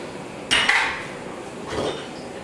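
Mac and cheese gets stirred in a pot, with two distinct metallic scrapes and clinks of a utensil against the pot, the first sharper and louder, in a quiet kitchen.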